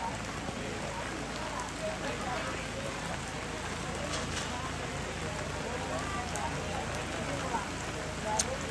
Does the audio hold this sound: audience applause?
no